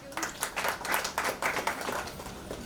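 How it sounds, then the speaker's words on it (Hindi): Scattered clapping from a small group at a film trailer launch event, irregular claps continuing for a few seconds at moderate loudness. "प्लीज़ तालियां बजाइएगा सर।"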